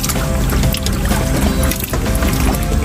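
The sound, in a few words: water being poured while refilling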